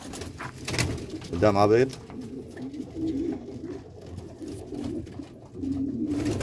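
French broiler pigeons at a pigeon farm in Damietta giving a clear cooing call near the microphone, with someone speaking Arabic over the softer background cooing and farm noise.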